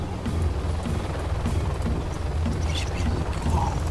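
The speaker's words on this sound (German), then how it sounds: "Das waren Hubschrauber, gell?" Helicopters in the real-time strategy game Command & Conquer Generals, a continuous rhythmic rotor chop at moderate volume with game sound effects layered on top.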